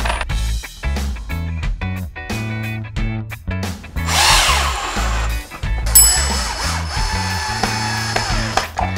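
A power drill driving 1 1/4 inch pocket hole screws into 3/4 inch pocket holes in wooden planks for a headboard, close and loud, with repeated whirring motor bursts, pulses and brief pauses, then sustained buzzing as screws seat.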